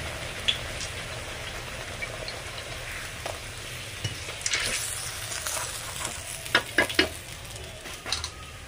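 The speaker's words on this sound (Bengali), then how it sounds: "লুচিগুলো কিন্তু একটু ডুবু তেলেই ভাজতে হবে।" Spinach luchi deep-frying in plenty of hot oil, a steady close sizzle and bubbling with scattered crackles and pops and a few brief clinks near the end, no talking.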